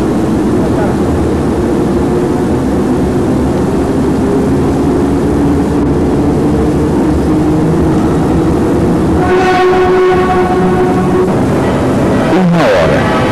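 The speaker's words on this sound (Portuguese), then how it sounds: "parte da estação Júlio Prestes, a última composição do dia do trem metropolitano" A loud, continuous rumble of a FEPASA commuter train departing Júlio Prestes station in São Paulo, with rising electric motor whines and metallic rail squeals as it gathers speed.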